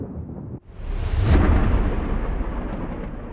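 A thunderstorm: a long, loud roll of thunder swells after a brief pause and rumbles on, slowly fading, with a hiss of rain beneath it.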